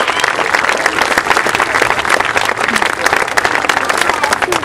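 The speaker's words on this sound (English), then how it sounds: "Big round of applause for everybody." Loud, busy crowd applause at a Little League opening day, many hands clapping close and steadily, with some cheering and chatter mixed into the clapping throughout.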